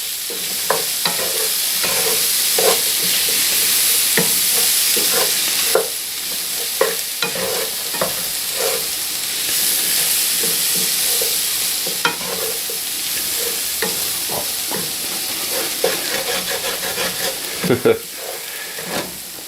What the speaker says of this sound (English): Now we're going to start to mix this together.